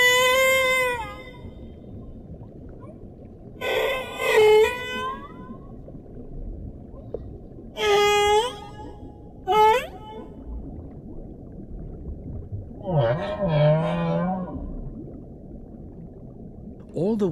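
Whale song in the deep ocean, a series of separate bursts of rising and falling harmonic cries and squeals, some meow-like, spaced a few seconds apart over a steady low underwater hiss, the last a longer warbling, grunting phrase.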